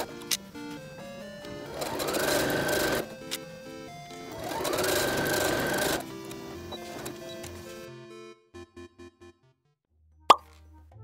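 A sewing machine stitches a zipper onto fabric, running in two sustained whirring bursts with a rising pitch. Single slow stitches follow, then a sharp click near the end. The sound is close, with no speech.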